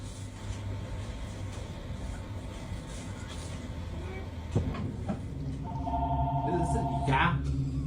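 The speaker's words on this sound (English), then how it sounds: "And then the freaking phone rings." A telephone rings indoors in a clinic, giving a short electronic warble that starts partway through over a low steady hum. It sounds moderately close and rises above the background.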